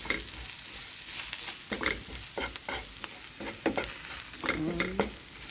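Curry pumpkin being stirred in a pot, with a steady sizzle and repeated scraping strokes of the spoon, close and fairly quiet, with no talking.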